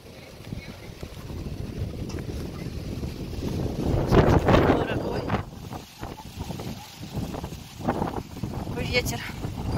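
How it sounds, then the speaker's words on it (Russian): Strong wind at the sea buffets the microphone with heavy, gusting rumble throughout, peaking in a loud blast midway, while a person talks intermittently near Burgas on the Bulgarian coast. "Ветер вообще сдувает."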